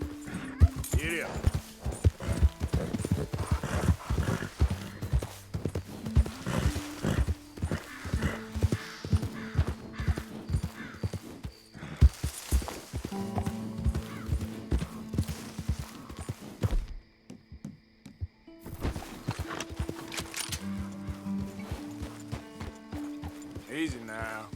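Horse hooves clip-clopping at a steady gallop in Red Dead Redemption 2, with rhythmic thuds and occasional snorts and whinnies under music and speech, the hoofbeats pausing briefly before picking up again.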